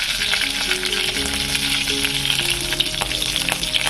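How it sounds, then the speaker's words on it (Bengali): Panch phoron, bay leaf and green cardamom crackle and sizzle in hot white oil, a dense, continuous frying hiss close by with no voices. "এদিকে সাদা তেলের মধ্যে দেওয়া হলো পাঁচফোড়ন, তেজপাতা, ছোটো এলাচ"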